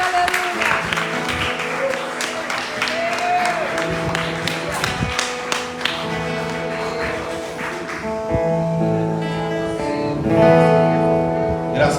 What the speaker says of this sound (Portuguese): Que as palmas louvem e glorifiquem o nome do Senhor